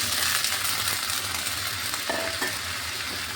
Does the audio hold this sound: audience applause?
no